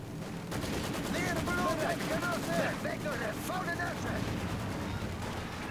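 Rapid machine gun fire from MG emplacements in the WWII strategy game Company of Heroes 2 rattles steadily in the background, mixed with scattered battlefield noise and a voice talking over it.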